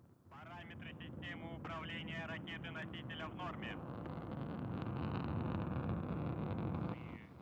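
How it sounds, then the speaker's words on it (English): A Soyuz rocket booster lifts off from Baikonur carrying the Progress 93 cargo ship, a broad, steady roaring rumble that swells and holds for several seconds, with a voice talking over it at the start. "we have liftoff of the 93 Progress resupply ship to the International Space Station"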